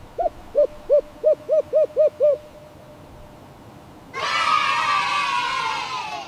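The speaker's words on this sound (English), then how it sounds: "Owl. Hoo," An owl hoots seven times in a quick, steady series of short, clear hoots, then a burst of children cheering and crowd noise takes over.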